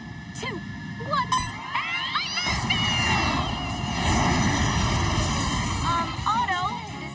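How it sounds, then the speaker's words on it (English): A jet aircraft roars through a cartoon scene, a steady broad rush that swells midway and stays loud throughout, mixed with honking, goose-like squawks and sweeping whistles as voices speak over it. "They let me fly the jet!"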